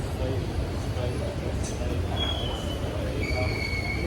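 A train stands at a busy station platform with a steady low rumble and occasional high wheel squeals, while people talk nearby.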